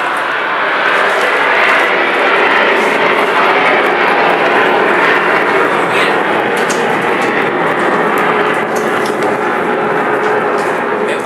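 An airplane passes overhead with a loud, sustained engine roar that fills the whole stretch, swelling slightly midway and holding steady with no talk over it.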